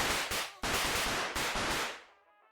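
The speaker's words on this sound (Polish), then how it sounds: "Proszę bardzo, jeszcze petardy wysadzę." Firecrackers blast in the video game Just Die Already in a dense string of loud, crackling explosions for about two seconds, then a ringing decay fades into silence.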